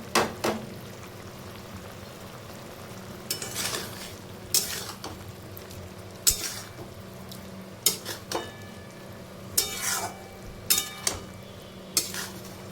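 Yogurt potato curry gravy (doi aloo dum) simmering in a pan as pre-fried potatoes are added, with scattered clinks of a spoon against the pot, soft stirring scrapes and a faint bubbling hiss underneath.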